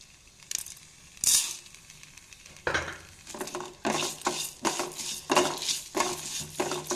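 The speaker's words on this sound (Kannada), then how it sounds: "ಉದ್ದಿನ ಕಾಳು ಕೆಂಪಾಗೋವರೆಗೆ ಹುರಿಬೇಕು" Urad dal frying in a pan for chutney, with repeated scraping spoon strokes and clinks against the metal over a soft sizzle, fairly close and without talk.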